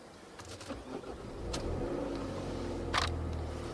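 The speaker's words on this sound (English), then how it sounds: "And now the engine has started" Diesel engine of a 2019 Mercedes-Benz X-Class X250d 4Matic pickup starting up, heard from inside the cab as a cranking surge that settles into a steady low idle hum.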